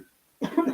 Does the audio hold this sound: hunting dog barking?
no